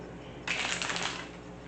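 A brief riffle of tarot cards being shuffled, a quick crisp flutter lasting under a second, close by with no talking.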